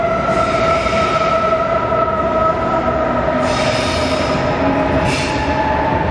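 A train pulling into a station in Germany rumbles loudly and continuously, with high, sustained wheel squeals ringing over the steady roll of the cars.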